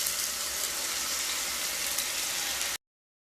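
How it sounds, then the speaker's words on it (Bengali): Carrot paste fries in melted ghee in a pan, giving a steady, loud, hissing sizzle that holds evenly for under three seconds and then cuts off abruptly. "ঘি মেল্ট হয়ে গেলে গাজরের পেস্ট দিয়ে দেব।"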